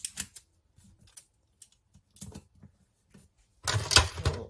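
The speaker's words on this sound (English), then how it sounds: "So I'm just going to tape down this side first." Tape being pulled and pressed down while sublimation paper is fixed onto a camp mug: a scatter of short, faint crackles and taps, then a louder sustained rip of tape near the end, close up with no talk.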